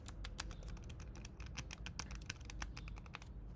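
Typing on an XYZ mechanical keyboard with its switches partly re-keyed, a fast, steady run of crisp close-up clicks and clacks, fairly quiet, with no voices.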